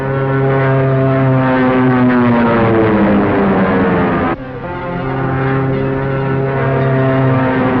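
A propeller airplane in an air race roars loudly and steadily with a droning engine tone that shifts in pitch as it passes, then a brief dip and the drone resumes.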